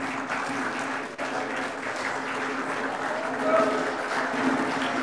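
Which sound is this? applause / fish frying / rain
applause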